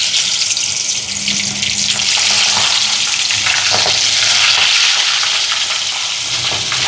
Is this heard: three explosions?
no